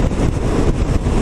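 Wind blasts across a microphone on a Yamaha X-Max scooter ride, a loud, steady rumbling buffet with slight fluctuations and no talking.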